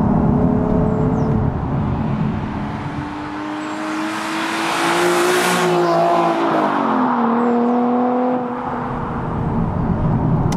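A Nissan 370Z accelerates hard, its engine note climbing in pitch as revs build, dipping briefly at a shift, then rising again, loud and close throughout with no voices.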